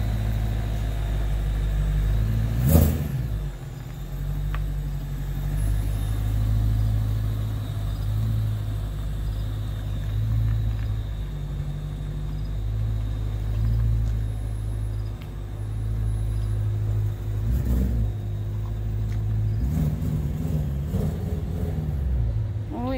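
A car engine idles and rumbles steadily nearby as vehicles are switched, with a few brief knocks and shifts in the low drone over the stretch.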